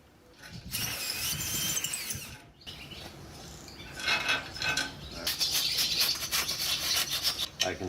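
A drive chain on a motorized solar power station runs with steady rubbing, rasping and ratcheting, rising and falling in bursts amid mechanical clatter.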